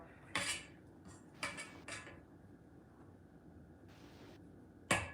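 Pecan rum cake batter stirred in a mixing bowl, with a few sharp scraping clinks of the utensil against the bowl's sides spaced across a quiet background.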